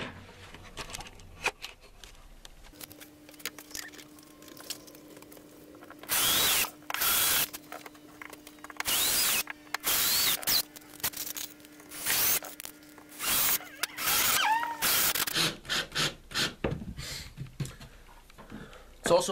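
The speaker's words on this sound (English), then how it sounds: "as you drill in, you don't want to go all the way into the wood because it's going to smush it, and especially particle board" A power drill bores into particle board while an Ego Box is being built, in several loud bursts of a few seconds each with pauses between, close by, with a person talking during the gaps.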